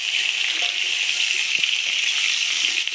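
Potatoes frying in a pan for chicken curry give off a steady, fairly loud, hissing sizzle, with faint scrapes of stirring heard alone.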